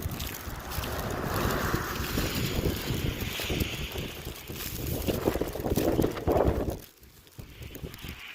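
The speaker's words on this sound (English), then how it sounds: "It was a cool, windy night." Wind gusts roar steadily on a cold, snowy night, buffeting the microphone with broad rushing noise that drops away abruptly near the end.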